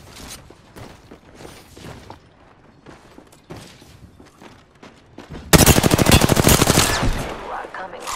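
Rapid automatic gunfire in Apex Legends, starting with scattered shots under faint game noise and then bursting into a loud, sustained close-range volley of fast shots for the last few seconds.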